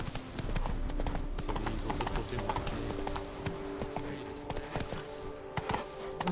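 Horse hooves trotting in a clip-clop rhythm in The Witcher 3: Blood and Wine, steady and close throughout, with faint game ambience underneath and no talking.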